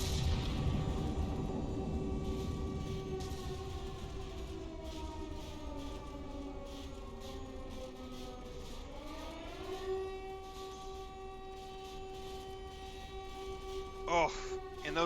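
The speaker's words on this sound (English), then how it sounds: "And then the siren is timed," An air raid siren in the From The Depths tank battle game wails in long rising and falling tones for most of the stretch, loud over a rumbling backdrop, and a few sharp impacts land near the end.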